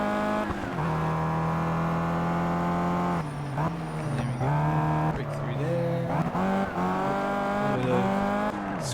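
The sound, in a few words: race car tires squealing in the video game Project CARS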